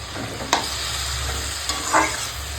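Mustard paste and green chillies sizzle in very hot oil left over from frying fish, a steady close hiss broken by a few sharp utensil clinks and scrapes as the mixture is stirred.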